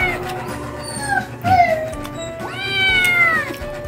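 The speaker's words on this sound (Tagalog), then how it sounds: "Pakita ulit sa inyo mga kuting." Several kittens meow loudly and close by, with overlapping high, drawn-out cries, one sharp rising wail in the middle, and a long caterwauling call near the end.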